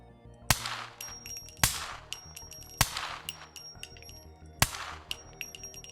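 Four loud, sharp gunshots in the video game SCUM, spaced roughly a second apart, each with a ringing metallic tail and lighter clinks between, with no talking.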